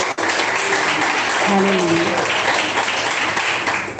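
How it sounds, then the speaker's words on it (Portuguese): A church congregation applauds for Jesus, with dense, sustained clapping that fills the room while a voice calls out briefly over it. "Mais palmas para Jesus."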